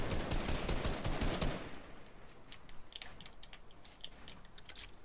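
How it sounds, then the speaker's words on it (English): Rapid automatic gunfire in Fortnite Battle Royale, a loud dense burst for about a second and a half, then fainter scattered shots and clicks trailing off, with no talk. "why do you gotta keep shooting at me?"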